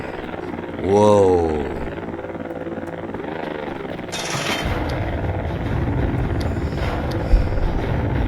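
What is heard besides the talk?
drone flying in Voices of the Void video game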